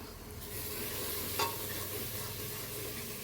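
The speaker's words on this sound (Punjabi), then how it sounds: "ਤੇ ਆਪਾਂ ਇਸ ਨੂੰ ਪ੍ਰੋਪਰ ਤਰੀਕੇ ਦੇ ਨਾਲ ਹਿਲਾ ਦੇਵਾਂਗੇ ਤਾਂ ਜੋ ਸਾਡਾ ਮਸਾਲਾ ਚੰਗੀ ਤਰ੍ਹਾਂ ਮਿਕਸ ਹੋ ਜਾਏ" Masala being stirred into aloo matar curry frying in a pan, a steady soft sizzle with scraping and stirring movements throughout, one brief sharper clink partway through, no talking.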